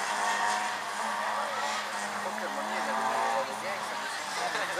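Race car on a timed slalom course launching and accelerating, engine roaring with tire squeal and skidding, steady and fairly loud, with an announcer talking over it.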